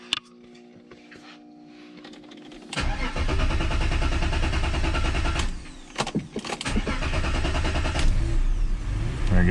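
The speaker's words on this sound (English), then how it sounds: "Nathan can actually go and show you now the car starting, no fault codes" A BMW with an M54 engine and a completely dead battery cranks briefly, then catches and fires up loudly, settling into a rough, fluctuating idle with a couple of short dips and surges.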